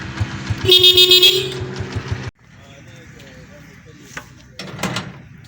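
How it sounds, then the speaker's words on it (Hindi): A loud car horn honks in a long blast, followed by quieter engine and outdoor sounds with a short toot near the end. "अब गाड़ी का हॉर्न लगाएंगे"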